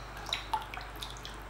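Water dripping and splashing softly while a catfish is washed by hand, with a few faint, scattered drips over a low background.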